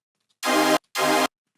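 Two sustained notes from a thick, buzzy supersaw synth, each about a third of a second long with a brief gap between, clean and loud.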